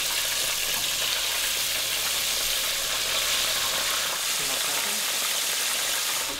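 Shrimp frying in a pan for a grilled cheese sandwich, a steady broad sizzle that holds evenly throughout, up close and fairly loud, with no talking over it.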